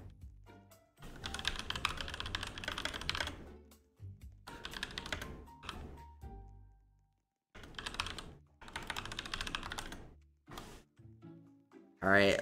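Bursts of rapid computer-keyboard typing come in several clusters separated by short pauses, fairly close and clear, during a Toilet Tower Defense live stream.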